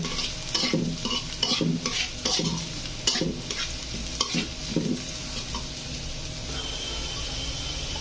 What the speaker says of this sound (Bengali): হালকা করে ভেজে নেব, লাল করে।